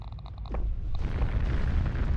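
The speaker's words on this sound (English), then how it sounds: "We should just be able to see the explosions itself." Explosions in a factory-building video game: a run of electronic beeps gives way to a deep, rumbling boom that swells and rolls on as a dense, continuous blast.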